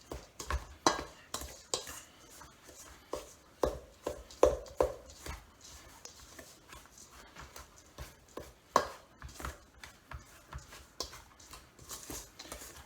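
A metal spoon working shredded coconut into thick cookie batter in a bowl, giving irregular scraping knocks and clinks that come in uneven bursts, close and fairly quiet.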